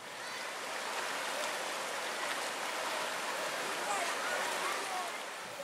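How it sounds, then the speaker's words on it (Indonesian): Cool river water at the Pantai Air Biru tourist spot rushes in a continuous, even hiss with no breaks, heard close and steady throughout. "air yang mengalir di sungai juga masih sejuk dan sangat segar"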